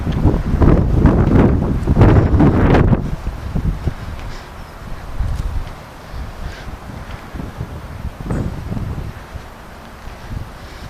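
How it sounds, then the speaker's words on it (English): Gusty wind roars across an open stretch of Clapham Woods facing a small valley, with a loud, rumbling buffet against the microphone for the first few seconds, then a lighter, steady blowing with occasional softer gusts. "It's always a bit more windy over here because we're open to the little valley."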